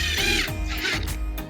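A power drill drives screws into a cheap picket-fence board while a raised garden bed is built, giving a short run of close, loud whirring and ratcheting bursts with brief pauses between them.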